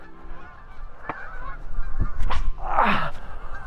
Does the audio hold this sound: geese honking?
yes